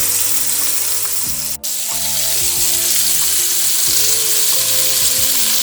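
Sausages and green asparagus fry in a pan with a steady, close sizzle and crackle that runs throughout. One brief dropout cuts in early, and no one speaks.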